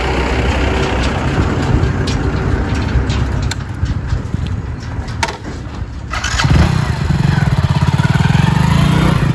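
A motorcycle engine runs loudly and steadily, with its note shifting partway through as it revs or pulls closer, the sound carrying throughout.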